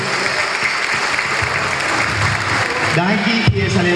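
Crowd applause and cheering at a ninth-anniversary celebration at a Sambil shopping mall, a loud continuous wash of clapping mixed with music and a brief amplified voice near the end.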